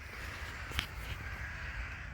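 Jackdaws calling in the background outdoors, faint scattered caws with one sharper call over a constant outdoor hiss.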